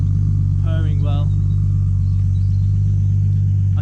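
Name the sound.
Nissan Skyline R33 engine idling after warm-up drive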